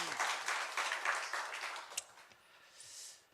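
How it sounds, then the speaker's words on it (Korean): Faint applause from a church congregation during a Sunday worship service, a brief patter of clapping that tapers off quickly, followed by a few isolated sounds in a quiet room. "우리 하나님께 영광의 박수 올려드리겠습니다"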